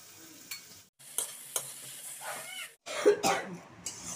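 Oil sizzles in a pan as ash gourd cooks with crumbled fried lentil dumplings, giving soft intermittent frying hiss and stirring scrapes close by, broken by a few coughs.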